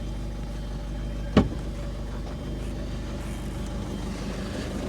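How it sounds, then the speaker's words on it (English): A Ford Fiesta mk6 with a 1.6 TDCi diesel engine idles steadily with a low, even hum after new glow plugs are fitted, broken by a single short knock or clunk near the start. "Oh, that's a much better idle."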